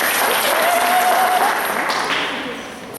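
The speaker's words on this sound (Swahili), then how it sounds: "Tuwapigie makofi tafadhali." An audience at a sensitization meeting in a Catholic church applauds with sustained, dense clapping that fades gradually toward the end, with a voice briefly audible within it.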